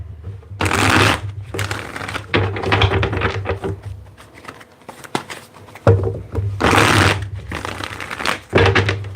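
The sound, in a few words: shuffling tarot cards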